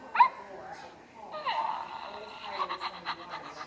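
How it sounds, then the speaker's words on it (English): A dog gives a sharp yip, then high whimpering whines, with a person talking over part of it indoors at close range. "They said no barking."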